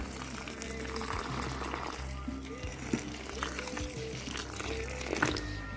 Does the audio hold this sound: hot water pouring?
yes